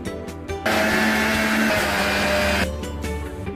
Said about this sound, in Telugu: కట్ చేసుకొని మిక్సీ జార్లో వేసుకోవాలి.